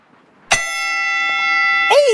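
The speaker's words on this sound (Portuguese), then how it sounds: "Eita, tocou o sino." A single bell is struck once and rings on with a long, steady, clear tone. Near the end a second strike or clang comes in over the fading ring.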